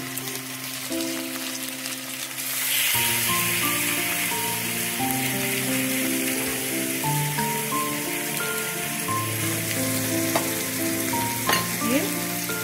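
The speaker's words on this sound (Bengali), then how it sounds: "এবার মিডিয়াম টু হাই ফ্লেমের মধ্যেই আমি এর মধ্যে এই চিকেনগুলো ম্যারিনেট করে রাখা দিয়ে দিচ্ছি।" Marinated chicken goes into a pan of lightly fried onions over a medium-high flame for chicken dahi korma, and a loud, steady sizzle swells up and holds, with occasional stirring and no talking.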